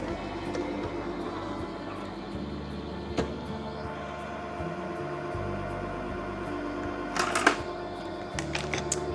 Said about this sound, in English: and pop it through the machine.